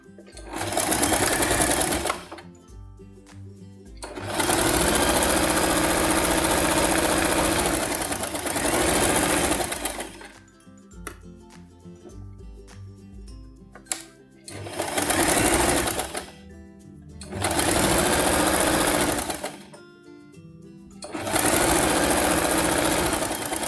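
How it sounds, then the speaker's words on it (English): A sewing machine runs a regular stitch along folded fabric for a toddler's turban hat, in loud steady bursts with short pauses between runs. "Fold the fabric in half like this and sew here using regular stitch."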